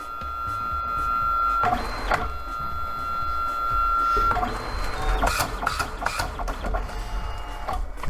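A Fujifilm ASK300 photo printer prints a 4x6 test print, a steady motor whine with clicks and mechanical clunks partway through, then a run of sharp rattling feed sounds, close and alone.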